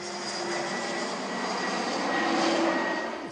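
Airplane passing low over a small village bordering the south side of an airport, a steady loud engine roar that swells slightly toward the end, with no talk over it.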